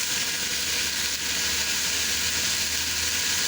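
Goat trotters fry with spices in a pan, giving a constant, loud, hissing sizzle that runs without a break.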